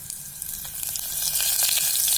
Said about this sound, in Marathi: छान तडतडलं की यामध्ये बाकीचे मसाले घालणार आहे. खडे मसाले घातलेले आहेत.